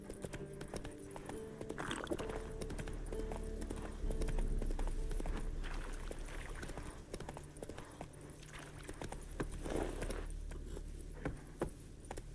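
A horse in The Witcher 3: Wild Hunt clip-clops along at a steady pace, hooves thudding moderately loud over a low game ambience, with a few brief louder bursts.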